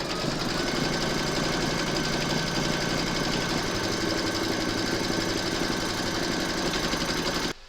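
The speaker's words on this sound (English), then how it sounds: "Pop your hoop into your machine and stitch round number 4" A home embroidery machine runs steadily, stitching a placement outline through fabric and batting held in a hoop for a zipper-top glasses case, giving a continuous close mechanical whirr with a fast stitching pulse that stops abruptly near the end.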